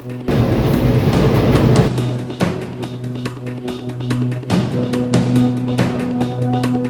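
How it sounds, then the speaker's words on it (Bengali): A passenger train pulls out of Poradah Junction in Bangladesh bound for Kushtia, with a steady droning engine hum under a run of sharp metallic clicks and clacks that start fast and then space out. "এবার ট্রেনটি পোড়াদাহ থেকে আবারও কুষ্টিয়ার উদ্দেশ্যে রওনা দিল"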